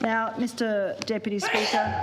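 A single sneeze in a parliamentary chamber during a climate emergency debate, a short burst near the end with a man's formal speech running over it.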